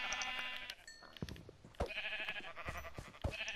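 Sheep bleating in Minecraft, several short nasal bleats from the farm animals repeating at irregular intervals, fairly close, with faint game clicks and thumps underneath and no talking.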